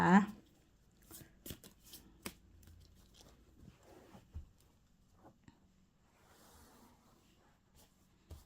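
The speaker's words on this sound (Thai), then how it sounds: "ขอเป็นตัวแทนสับไพ่ตัดไพ่ให้คนเกิดปีมาแม" Tarot cards are shuffled and cut by hand close up, making scattered crisp slaps and riffling rustles at an uneven pace, with a soft voice faintly present.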